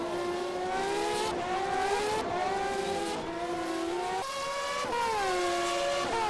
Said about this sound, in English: Martin Stefanko drifting the car around turn, turn 5-6.